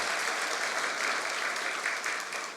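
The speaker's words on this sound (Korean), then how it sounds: "큰 박수 부탁드리겠습니다." Steady, dense applause from a large church congregation after worship singing fills the whole stretch, loud and unbroken before tapering slightly at the end.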